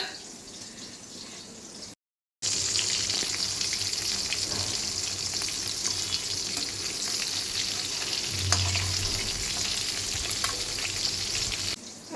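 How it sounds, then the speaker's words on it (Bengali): Fish fries in a pan of hot oil with a loud, continuous hiss and crackle heard up close, broken only by a brief silent gap near the start. "চলো মাছটা ভাজা হোক"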